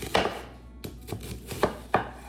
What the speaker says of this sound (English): for the onions, you don't have to cut them up super, super small. I just cut them up in like 3s or 4s.